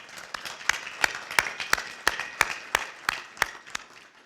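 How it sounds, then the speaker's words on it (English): A small group claps at a community college scholarship gala, with sparse, uneven claps ringing out individually in a steady rhythm rather than a dense roar, moderately close. "I'd like to have everyone in this room give yourself a round of applause"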